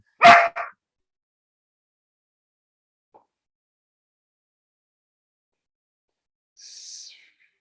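Dogs bark briefly at close range, a quick double bark at the start, then a faint later yelp amid long stretches of near silence.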